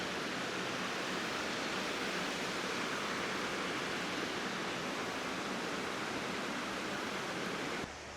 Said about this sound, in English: It's a pretty waterfall though.